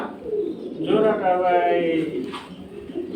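Silver high-flying pigeons, a pair of male and female, coo softly and repeatedly at close range while someone talks over them.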